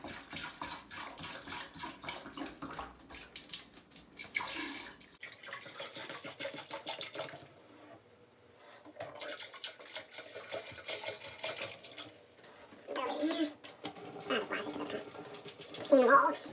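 Liquid is poured into a drain line while a cabin is winterized, giving a splashing, gurgling flow in bursts with pauses, close and moderately loud, alongside some speech.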